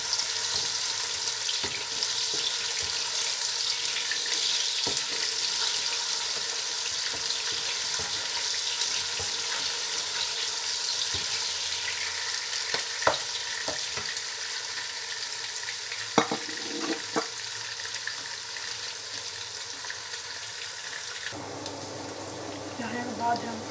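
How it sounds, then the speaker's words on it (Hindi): Chopped onions sizzle and fry in a pan as they brown for mung dal khichdi, a steady crackling hiss with occasional stirring clatter, and running water near the end. "अब हम डालेंगे जो प्याज काट के रखा है वो वाला। इनको हल्का सा ब्राउन करेंगे।"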